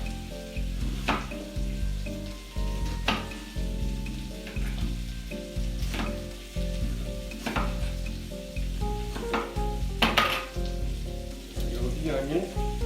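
Half a medium onion hitting a pan of sizzling potatoes and red bell peppers, a loud steady sizzle broken by repeated rhythmic stirring scrapes, with no voice over it.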